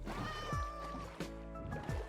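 A cat meows in Minecraft, several short in-game mews in quick succession over a steady background drone of water and boat sounds.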